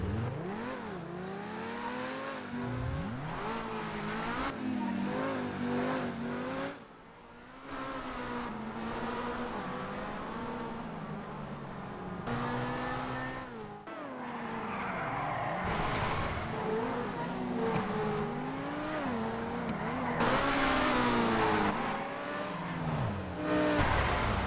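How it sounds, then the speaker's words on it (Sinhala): A Lamborghini sports car engine revs and races, its pitch climbing and falling again and again over about 25 seconds, with a few brief tire squeals and one short lull partway through. "ආ ලැම්බෝගිනි එක සද්ද යන්නේ නේද?"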